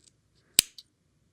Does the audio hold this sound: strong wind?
no